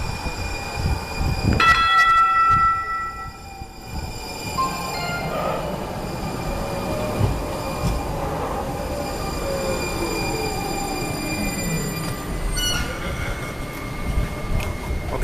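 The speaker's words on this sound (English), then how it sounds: "HRT light rail train. This train is going to take us" A Tide light rail train rumbles past close by in downtown Norfolk, Virginia, with a steady low roar, metallic wheel squeals and ringing tones rising over the rolling noise.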